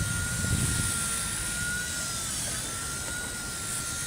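A WLtoys V922 RC helicopter flies overhead during 3D invert practice, its steady high rotor and motor whine continuous and fairly close, with no speech.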